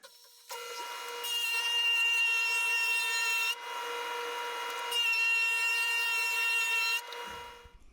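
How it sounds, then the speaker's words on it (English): A table saw fitted with a stacked dado blade set spins up to a steady whine, cuts a quarter-inch groove in a wood board with a harsher tone in two passes, then winds down, loud and close. "basically 2 saw blades up against each other, and that'll cut a 1/4 inch groove"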